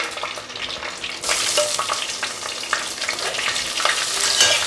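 Urad dal and onion frying in hot oil in a pan while making sambar, a steady close sizzle that jumps louder partway through and keeps crackling busily to the end, with no voices.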